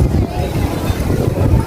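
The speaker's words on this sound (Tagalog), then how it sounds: "Mahangin na siya ngayon" Gusty wind at a seaside promenade in light drizzle rumbles loudly against the microphone, a low buffeting roar with faint murmurs of a voice underneath.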